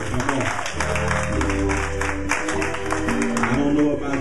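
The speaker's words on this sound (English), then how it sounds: "let's give the Lord a hand clap of praise" A church congregation claps in praise to the Lord, a steady flurry of hands running throughout over loud, bass-heavy music.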